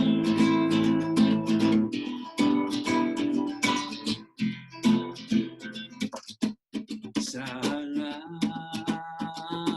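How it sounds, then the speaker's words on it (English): Rumba rhythm in a flamenco style: strummed guitar chords with steady rhythmic accents and some melodic lines, loud and continuous, playing alone without talk. "now that's a rumba"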